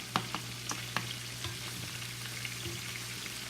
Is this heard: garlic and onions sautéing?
yes